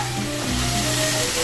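Dried chicken necks sautéing in oil for adobo, a dense, loud sizzle heard close up, steady throughout the short moment with no talking.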